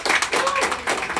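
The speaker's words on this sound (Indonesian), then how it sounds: "Kita tepuk tangan. Puji Tuhan." Wedding guests clap together right after a couple is declared lawfully married at a church ceremony, a dense burst of close, steady applause with voices mixed in.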